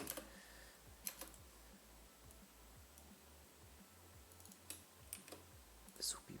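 Quiet, steady typing on a computer keyboard with irregular soft key clicks and a few louder taps, heard alone in a faint room.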